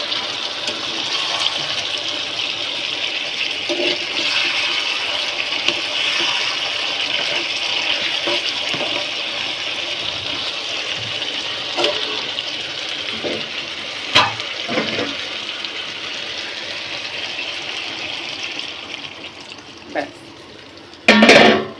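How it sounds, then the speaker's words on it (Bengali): Broth pours into a curry cooking in a pot, a steady rushing liquid sound with bubbling that runs the whole way through, with a few sharper knocks and a louder burst at the end. "এখন কিন্তু ঝোল দিয়েছি"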